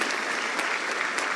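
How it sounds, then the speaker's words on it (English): Brief, full applause from an audience at a national dialogue event honouring the chairman, a thick continuous wash of clapping with a few sharper claps standing out, no talking. "Please, with a standing ovation and some wonderful applause, please, I want you to acknowledge our chairman"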